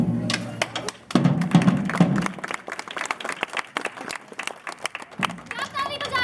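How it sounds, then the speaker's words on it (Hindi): An audience claps at a street play, nukkad natak, in scattered bursts with loose handclaps and crowd murmur, while a performer shouts over them. "क्या ताली बजा रहे हैं आप लोग?"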